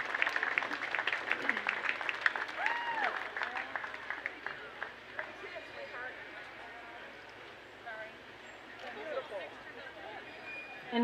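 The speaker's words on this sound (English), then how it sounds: "Go ahead and give these kids a good round of applause." An audience at a junior livestock show applauds the class winners with a light scattering of clapping, a little faded, while an announcer talks over it.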